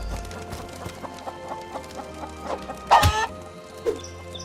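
Chickens cluck in a video game in a short run of small game-audio calls over a steady musical background, with a louder burst of clucking near the end.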